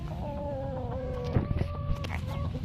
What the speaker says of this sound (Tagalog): Ito yung lalaki namin na manok.